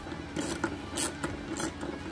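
An 8mm socket ratchet loosens the screws holding a car taillight, giving several short bursts of rapid metallic clicking close up, with brief pauses between strokes and no talk.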